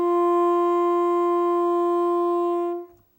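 A saxophone holds one sustained D, steady and clear for close to three seconds before stopping, played alone in a beginner lesson.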